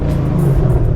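Shelby GT500 engine revving loudly with both paddles held, a deep, thunderous rumble that fills the whole moment, very close and overwhelming, no speech.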